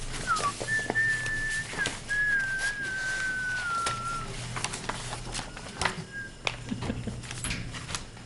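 Whistled melody from a person during a zoning board of appeals meeting, a few sustained wavering notes with slides and pauses, fairly clear over a low room hum and scattered small noises, no talking.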